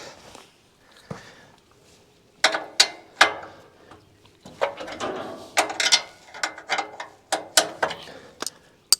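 Wrench work loosening a nut on a sawmill, heard as scattered metallic ratcheting clicks and clanks, sparse at first and then in dense bursts, fairly close and with no talk.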